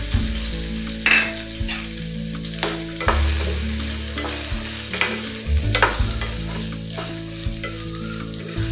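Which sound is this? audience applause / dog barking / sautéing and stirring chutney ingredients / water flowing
sautéing and stirring chutney ingredients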